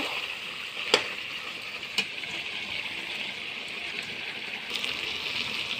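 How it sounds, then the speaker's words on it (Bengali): Continuous sizzle of country chicken frying in a pan, close and moderately loud, with a couple of sharp clicks of a utensil against it; no pouring stands out. "পাশের কড়াইতে গরম জল আছে, ওই গরম জলটা আমি"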